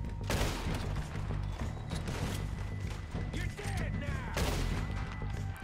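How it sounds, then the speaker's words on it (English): Gunfire in the Red Dead Redemption 2 video game, several sharp shots cracking at irregular intervals over a busy, rumbling game soundscape. "He's shooting at us still."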